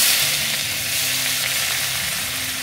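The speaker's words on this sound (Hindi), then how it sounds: "चलिए अब इसमें डाल देते हैं हम प्याज" Onion dropped into hot oil with cumin seeds for a Kerala-style surmai fish curry, giving a loud, dense, continuous sizzle right up close, with no one talking.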